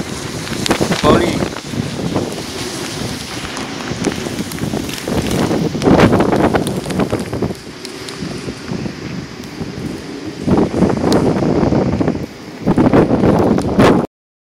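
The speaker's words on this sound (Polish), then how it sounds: "Coraz silniejszy wiatr." Strong, gusty wind in open country ahead of an approaching storm over the Łódź region buffets the microphone in roaring surges that rise and fall every few seconds.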